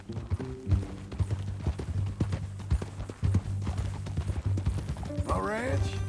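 Horse hooves clip-clop steadily in the video game Red Dead Redemption 2, rhythmic and close, with people talking over them and a brief whinny near the end.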